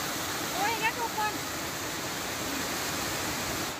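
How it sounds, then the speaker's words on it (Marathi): The Marleshwar waterfall in the Konkan roars as a constant, dense wash of falling water close by, with a voice speaking briefly over it early on. "तर हा बघितला का धबधबा, का सुंदर आवाज"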